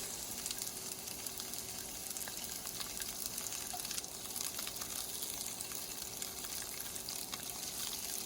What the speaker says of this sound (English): So just adding in all the veggies, and I'm going to give them a quick stir